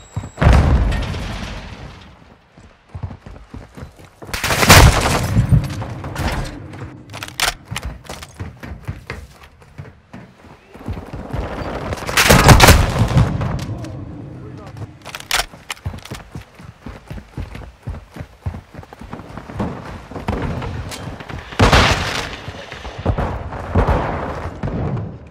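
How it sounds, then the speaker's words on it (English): Semtex grenade explosions and gunfire in Call of Duty: Modern Warfare II, several loud booming blasts spaced a few seconds apart, with bursts of shots and clattering action noise between them. "Throwing Semtex!"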